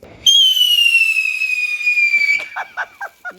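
A New Year's Eve firework launches with a long, loud, steadily falling whistle, then a few short crackling pops follow in quick succession close by.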